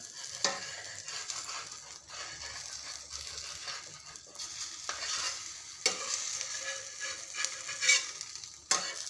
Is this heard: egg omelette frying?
yes